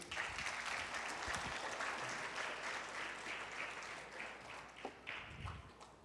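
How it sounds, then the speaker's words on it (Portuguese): Applause from a church congregation during a Sunday worship service, a dense steady wash of clapping that fills the space and slowly thins toward the end. "Muito obrigado, podem descer, obrigado, palmas para eles."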